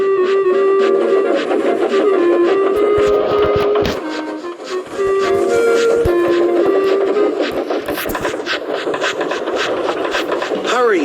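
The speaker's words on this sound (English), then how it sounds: ""Whoosh!" he whistled as he rushed through Henry's tunnel." Thomas the Tank Engine rushes through a tunnel, heard as busy rhythmic rail clatter and engine noise with whistle-like tones, loud and close, under a narrating voice and music.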